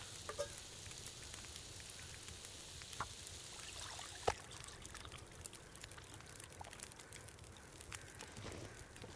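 Bad water cooks over a fire in The Long Dark, a steady faint sizzle and crackle with occasional small pops and ticks, low-level and continuous without speech.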